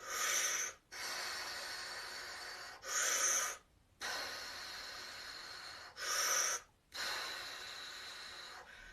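Three loud, hissing snorkel-style breaths come through breathing equipment in a pretend under-the-sea performance, each a rasping inhale about a second long, followed by longer steady exhales and short silences between them.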